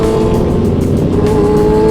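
A motorcycle's aftermarket-style exhaust revving close by, a steady loud engine drone with a sustained tonal hum throughout, no voices.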